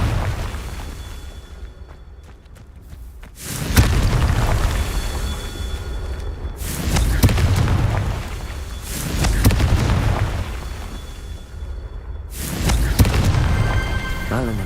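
Confringo blasting curse explosions in the Hogwarts Legacy video game: three loud, deep booms a few seconds apart, each with a long rumbling tail that fades before the next blast.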